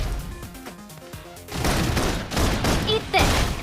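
Sustained suppression gunfire in a video game, dense bursts of shots and crashing impacts that grow louder midway, with game voices and music underneath.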